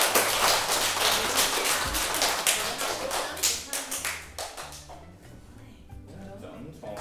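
Audience clapping at a primary school prize giving and leavers' assembly: a dense, steady round of applause from a hall full of people that holds for several seconds, then thins toward the end as a voice speaks over it.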